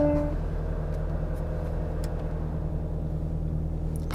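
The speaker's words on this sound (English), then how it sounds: "So we'll just let the aircon start working." A Mk2 Audi TT idles with its air conditioning running, the car in need of regassing, giving a steady low engine hum with a constant drone beneath it. A brief higher tone fades in the first half second.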